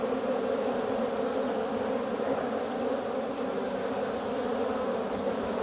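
Honey bees buzz steadily inside a small opened hive colony, a dense continuous drone at close range with no voices over it.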